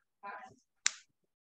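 A teacher's single class clap, sharp and close, follows a short stretch of speech from a voice and stands alone.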